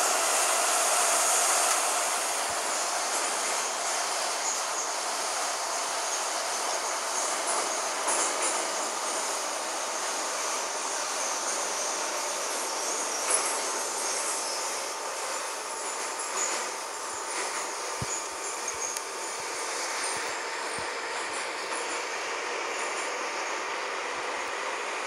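Minsk metro train, an 81-717, running between stations on the stretch from Mogilevskaya to Kamennaya Gorka: a steady loud broadband roar with a whining hum inside the car, occasional clacks and brief wheel squeals, no talk.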